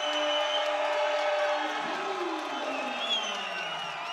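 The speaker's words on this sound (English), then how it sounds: "You just hear the crowd behind us erupting." A boxing crowd at a fight night roars in a sustained wave of cheering and whooping, loud and continuous, with a voice rising over it.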